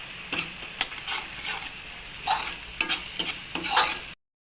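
Coriander and mint leaves are stirred into a kurma curry frying in a pan, a soft sizzle punctuated by several distinct scraping stirs before the sound cuts off abruptly.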